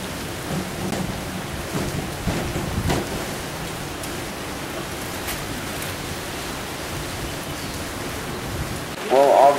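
Heavy rain pours in Keelung, Taiwan, a dense steady hiss with low thunder rumbling underneath and a louder burst near the end, with no speech.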